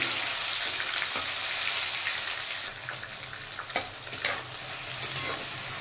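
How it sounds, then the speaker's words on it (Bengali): A large chopped tomato sizzling in hot oil with a bay leaf in the pan, a dense steady hiss that eases slightly partway through while a spoon stirs with a few sharp scrapes and taps, close and without talking. "এবার আমি দিয়ে দেব কুচিয়ে রাখা বড় সাইজের একটা টমেটো।"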